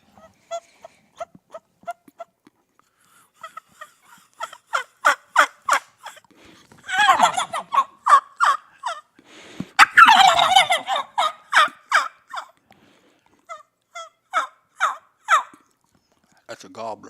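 A voice imitates a turkey gobbler call, a series of rapid, rattling gobbles and yelps in bursts, loud and close, with no talking over it.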